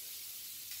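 Minced garlic sizzles in a hot pan, a bright steady hiss with no pauses for the whole short moment.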